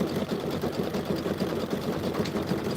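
A sewing machine runs nearby with a steady, fast, buzzing stitch rhythm at moderate volume, uninterrupted and with no voices.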